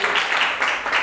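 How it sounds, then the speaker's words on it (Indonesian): Short burst of applause for a student group about to present in a classroom coaching session, dense steady clapping from a small crowd at close range, with no talk over it. "Kita beri tepuk tangan dulu untuk kelompok Anita"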